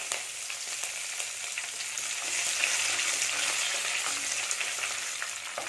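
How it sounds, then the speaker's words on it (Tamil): Dried red chillies and curry leaves fry in hot oil for a beetroot poriyal, giving a steady, fairly loud crackling sizzle that runs throughout with no talking. "இது லேசாக வருபடட்டும் கருவேப்பிலை கொஞ்சமாக போட்டுக்கலாம்"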